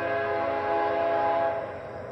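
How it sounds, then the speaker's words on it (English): A train whistle sounds up ahead, a steady sustained tone held for about a second and a half before easing off, heard from a moving vantage along a canal with a swing bridge ahead. "I can hear a train whistle up ahead."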